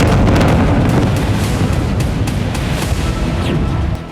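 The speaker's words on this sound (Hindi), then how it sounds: "रूसी ड्रोन एक रिहायशी इमारत पर गिरा, जिसके बाद जबरदस्त धमाका देखा गया।" Russian drone explosion striking a residential building in Kharkiv, a loud dense roar of blast and rumbling debris with crackling bursts, sustained and close throughout.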